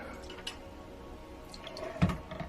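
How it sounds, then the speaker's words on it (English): Lye solution is poured into a cold process soap batch, making a faint, brief liquid trickle with a few small splashes close by in a quiet room. "So let's get this lye solution in there."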